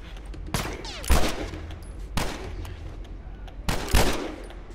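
Gunfire in The Last of Us Remastered, several loud sharp shots in irregular bursts roughly a second apart, with crackling echoes and rumbling between them.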